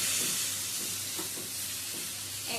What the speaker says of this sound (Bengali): মশলাটা দিয়ে সমস্ত সবজিগুলো কষিয়ে নেব